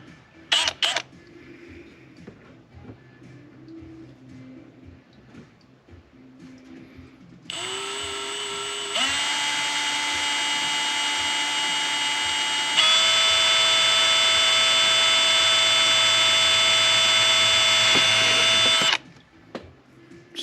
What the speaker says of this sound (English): I'm going to end up pre-drilling a small hole